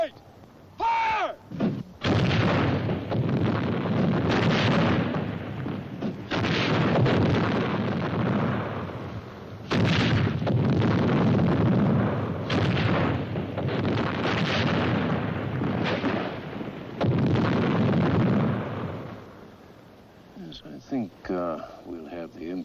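Cannon and gun volleys fired in succession from the right ring out as loud, rolling bursts that merge into a long roar, with wind buffeting and voices shouting between the blasts.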